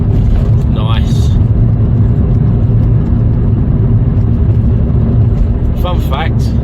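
A Vauxhall Corsa VXR driving at night, its engine giving a steady, loud low rumble from inside the cabin, with brief squeaks and whistles rising over the drone.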